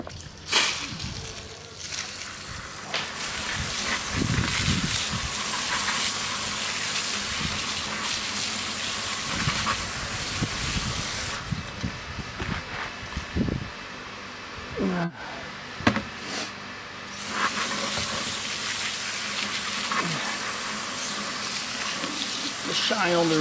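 Running water rinses a car wheel rim after a lemon and salt cleaning, a steady close gush with clattering handling noises and a short break midway, while a person talks over it.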